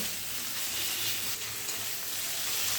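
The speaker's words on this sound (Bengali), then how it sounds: "এবারে আদা রসুনটাও ওই পেঁয়াজের সঙ্গে ভালো করে একটু কষিয়ে" Ginger garlic paste sizzles and fries with onions in a pan on a steady, even hiss, close and continuous with no talk.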